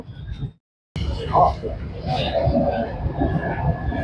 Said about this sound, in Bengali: তো সমস্তিপুর কাটিহার মেমু স্পেশাল ট্রেনের সাথে তোমাদের ক্রসিং, আমাদের এই ট্রেনের ক্রসিং হলো